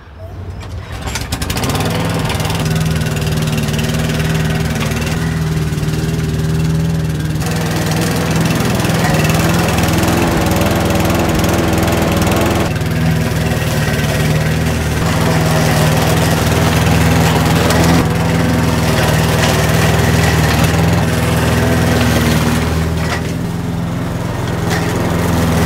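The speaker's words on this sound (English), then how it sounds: "I got to at least mow." Lawn mower engine running steadily and loud in a strawberry field with raspberry and peach plantings, a continuous close drone with slight load changes throughout.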